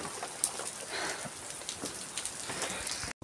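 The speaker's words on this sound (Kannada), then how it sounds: "ಇದು ಮಳೆ ಅಲ್ಲ, ಇದು ಮೇಲ್ಗಡೆ ಬೀಳ್ತಾರ ಅಂತ ಪರ್ವತದ ನೀರು" Mountain water falls from above like rain onto the ground on a trek to a hillside fort in Maharashtra, a soft continuous patter of scattered drops, fairly faint, with no voices.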